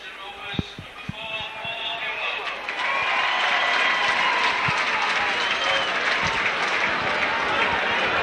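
A stadium crowd at a rugby match rises and applauds a try, sustained clapping and cheering building and holding loud, with a commentator talking over it.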